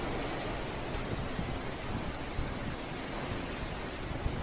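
Strong wind from a windstorm in Chitwan, Nepal, roars as a constant broadband rush that stays loud and unbroken with no voices.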